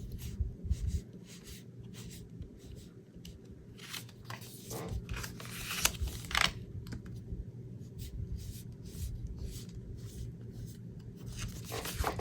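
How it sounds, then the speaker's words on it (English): Pen drawing a dotted line along fold marks on a paper envelope for a handmade card, a series of faint scratchy strokes close up over a steady low hum. "for each fold, I'm going to draw a dotted line"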